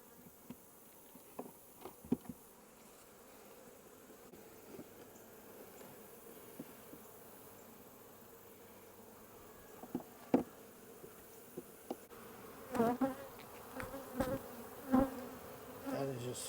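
Honeybees at an opened hive during a mite-treatment check, a soft continuous buzz of many bees close by, with occasional louder passes and light knocks of frames.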